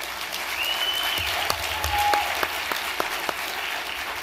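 Sustained audience applause fills the room at a speech on marriage, a steady dense patter of many hands with a few sharper claps standing out, moderately loud throughout with no talking over it.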